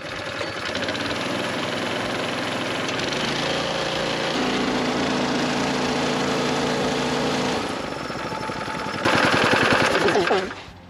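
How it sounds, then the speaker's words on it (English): A Honda GX200 clone small engine with a freshly changed carburetor is pull-started and fires up, settling into a loud, steady chugging run close by, with a brief rise in revs near the end. "Gonna pull the pull start and see what she does."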